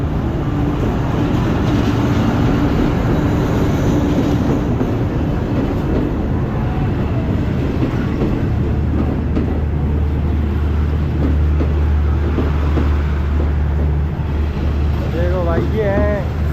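A train pulls into a Thai station on the Phuket to Bangkok route, giving a loud continuous rumble with rattling wagons and a low engine drone, mixed with crowd noise and talk on the platform.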